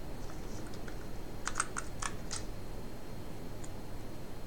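Several quick keystrokes tap on an Ultimate Hacking Keyboard in a short cluster, crisp and close, followed by one lone click after a pause, over faint room hiss with no talk.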